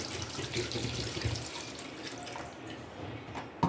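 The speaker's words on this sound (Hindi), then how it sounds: "अब इसमें पानी ऐड करके" Water is poured into a pot of beef with garlic, ginger, salt, turmeric, red chilli and tomatoes before pressure cooking, giving a soft, steady splashing stream at close range with no talking.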